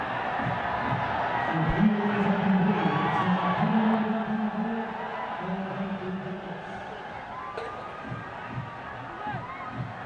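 A cricket crowd at TU Ground in Kathmandu cheers and whoops during a Janakpur Bolts versus Karnali Yaks match, a loud swelling roar that peaks and eases back to a murmur.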